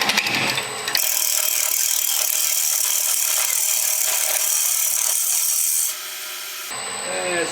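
Loud, steady rasping of a power tool cutting away wood during a woodturning demo, a continuous bright grinding that holds for several seconds, eases off, then pauses briefly before starting again.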